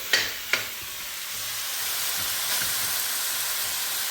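Chicken frying in a pot for Trinidad stew chicken with brown sugar and soy sauce, a dense, bright sizzle that builds steadily, opening with two sharp clatters of a spoon, no one speaking.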